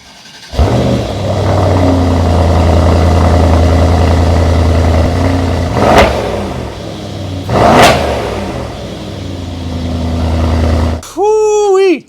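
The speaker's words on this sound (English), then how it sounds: "now it's time for the exhaust note of the E63 AMG" A 2018 Mercedes E63 AMG-S with its 4.0 engine starting, then idling with a deep, loud exhaust burble broken by two sharp revs, before a short whining sweep near the end.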